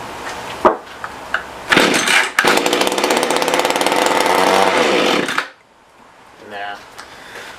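A Mantis rototiller with a faulty carburetor, its small engine sputtering, revving into a loud buzzing run for a few seconds, then cutting out and stalling before a brief weak restart attempt; a voice is briefly heard.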